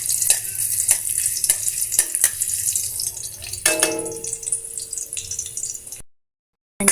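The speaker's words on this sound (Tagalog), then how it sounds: "ilalagay muna natin yung ating luya." Ginger sizzling and frying in hot oil in a pan for a fish tinola, a steady broadband hiss with stirring scrapes and clinks, close and fairly loud, no talk.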